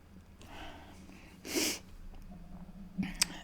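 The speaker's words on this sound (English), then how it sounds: "I'm going to sneeze" One sharp sneeze bursts out close up, followed by quiet breathing and a small sniff.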